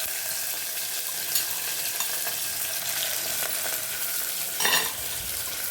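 Onions and green chilies sauté in hot oil for a prawn biryani, giving a steady, close hiss of frying with a few brief spoon-stirring scrapes partway through and near the end.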